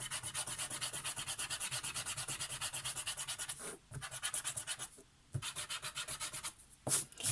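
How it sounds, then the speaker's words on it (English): An eraser rubs out pencil lines on paper in quick, regular back-and-forth strokes, close and continuous, with two brief pauses between runs of scrubbing. "I'll just rub these lines"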